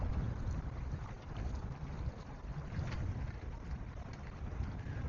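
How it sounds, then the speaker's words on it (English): Steady wind rushing and buffeting over a Catalina 22 sailboat on a close reach as a squall approaches, a continuous broadband roar with microphone gusts and faint water movement underneath. "it's picking up quite some wind."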